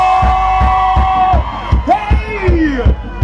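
A festival crowd at a live reggae show yells and whoops over a pounding bass beat, loud and sustained, with sliding shouted voices rising and falling throughout.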